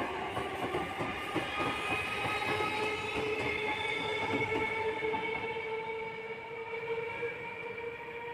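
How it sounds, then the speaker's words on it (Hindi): A local train on the Sealdah to Agarpara line rolls along steadily, with a close, continuous rumble of wheels on rails, faint clicking, and sustained squealing tones throughout, and no voices. "ताकि आप लोग आवाज़ जो चल रहा है वो आप लोग ले सको, फीलिंग्स को ले सको ट्रेन चलने की"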